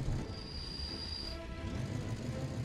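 A train pulls in within Workers & Resources: Soviet Republic. It keeps up a steady rumbling rail noise with a thin, sustained whistle-like tone and a faint hiss, moderately quiet, with no talk.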